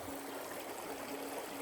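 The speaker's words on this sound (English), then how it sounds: "River flow sound. It's very, very nice." A river flows past a campsite at Clausen Springs in North Dakota, a soft, constant rushing and trickling wash heard from a short distance with no talking.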